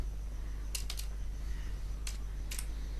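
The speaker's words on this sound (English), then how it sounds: "see what I am typing" Computer keyboard typing while writing SQL code comes through as a few quick bursts of clicky keystrokes, one small cluster early and another pair later, close and crisp over a steady low hum.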